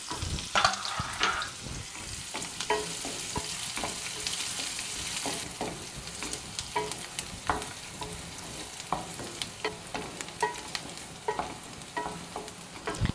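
Sliced big onions and green chillies frying in hot oil for chitranna, a steady sizzle and crackle broken by repeated sharp scrapes and clinks of a spoon stirring the pan, close and continuous with no talking.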